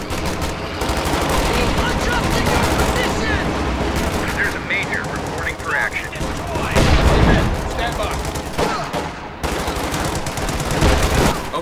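Area gunfire in Company of Heroes 2, with sustained machine-gun and rifle fire and heavy impacts in a dense, loud battle, under shouted commands from soldiers.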